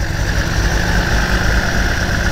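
A 1977 Datsun 280z with ceramic-coated headers and a K&N air intake idles loud and close just after starting, a steady, slightly rough engine rumble.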